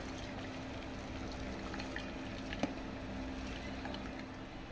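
Cooked vermicelli noodles tipped into a colander to drain, giving a steady, soft watery hiss and patter that runs throughout, with one brief clink near the end.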